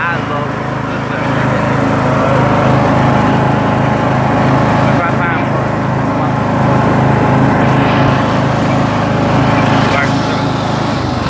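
A riding lawn tractor engine runs steadily and loud throughout with a constant droning hum, while someone talks over it close by.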